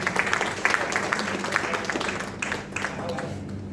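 An audience applauds to welcome Lions Club president Nikhilbhai Sheth at an event, with a soft, steady crackle of clapping that stays under a voice speaking over it.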